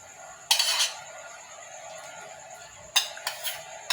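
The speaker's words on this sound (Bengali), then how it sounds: "এর মধ্যে যে কাজু বাদাম কিশমিশটা আমি ভেজেছি দিয়ে দিচ্ছি" Fried cashews and raisins go into a pot of payesh, with metal spoon and utensil clinks against the pot in short bursts over a faint steady background hiss.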